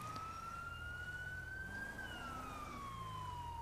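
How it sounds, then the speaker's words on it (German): Police car siren in the video game GTA V, a steady wailing tone rising then falling slowly, continuous and clear over a low engine hum, with no talk. "Wir machen mal auf stillen Alarm quasi, stelle Sirene."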